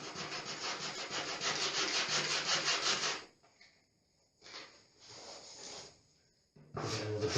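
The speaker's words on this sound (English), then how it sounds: "So with some rough sandpaper, so this is 80, this is grade 80. So just give that a rub," Coarse grade 80 sandpaper rubs damaged woodwork in quick back-and-forth strokes, one long burst, then a short pause and further bouts of scratchy rasping, close and fairly loud.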